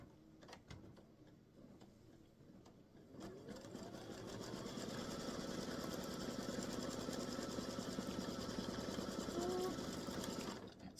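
A sewing machine stitches an appliqué block for a patriotic baseball bat and stars quilt block, running as a steady, fast mechanical whir from about three seconds on after brief quiet handling noises, fairly close and continuous to the end.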